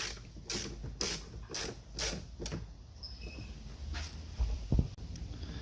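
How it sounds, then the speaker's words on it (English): A ratchet on an extension tightens a bolt on a BMW 335D E90 during a harmonic balancer replacement, giving several evenly spaced close clicks followed by quieter clicking and handling noise. "you can take your extension and go right through the little gap right here to tighten it up"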